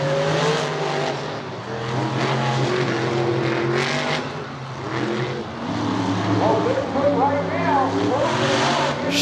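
A Bigfoot monster truck engine roaring loudly at a monster truck event at Charlotte Motor Speedway, a sustained rumble that rises and falls with revving, while an announcer talks over it.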